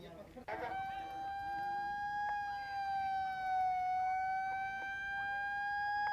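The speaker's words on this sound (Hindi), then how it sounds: "तो पुलिस की गाड़ियों के सायरन की आवाजें आपको सुनाई दे रही होंगी," Police car sirens wailing at Danapur railway station during a riot, a loud sustained tone gliding slowly up and down for the whole stretch, with voices and a brief thump in the background.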